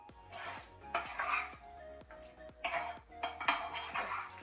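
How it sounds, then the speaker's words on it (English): Greek yogurt and beetroot raita being stirred in a bowl, a spoon scraping and clinking against the dish in steady repeated strokes, close and fairly loud, with no talking. "You want to be sure that the yogurt or the Greek yogurt is mixed in well."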